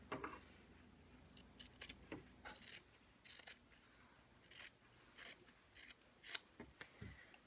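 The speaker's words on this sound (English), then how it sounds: "I'm going to trim my sides to get them more nice and straight." Scissors trimming the fabric edges of a sewing-class apron: quiet, close snips come in irregular clusters of short crisp cuts with pauses between, and no talking.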